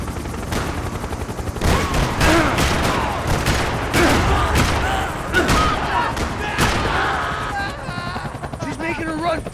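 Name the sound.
gunfire in video game Max Payne 3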